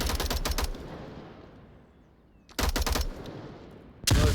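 Bursts of automatic gunfire from the VR shooter game Onward come in quick rattling volleys, fading between shots before another sharp burst ends the stretch.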